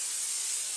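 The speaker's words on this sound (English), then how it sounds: "Then we're going to coat our 9 by 13 inch baking dish with the cooking spray." Cooking spray hissing onto a 9 by 13 inch baking dish, a steady close airy spray lasting under a second with no talk over it.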